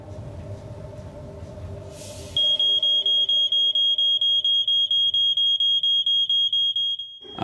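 Fire alarm sound effect staged for a fake hotel kitchen fire: after a low rumbling background, a piercing high-pitched smoke-alarm beep starts and repeats rapidly and steadily for several seconds, loud and close.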